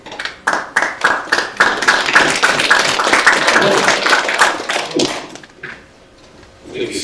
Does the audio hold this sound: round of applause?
yes